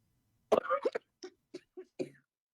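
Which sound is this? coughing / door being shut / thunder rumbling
coughing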